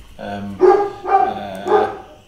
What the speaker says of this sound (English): my dogs are going off in the background